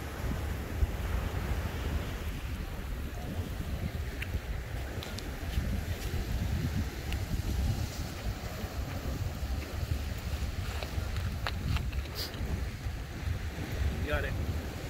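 Strong wind buffets the microphone at Ala Moana Beach Park, a steady loud roar mixed with surf and waves along the shore for the whole stretch, with brief faint clicks and knocks.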